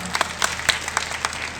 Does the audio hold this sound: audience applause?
yes